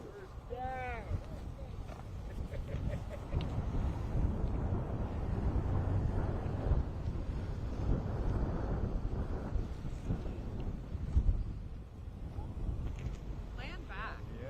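Gusty wind buffets the microphone outdoors at an anniversary march at Wounded Knee, a continuous loud rumble that runs through the whole stretch with voices and crowd sounds mixed in.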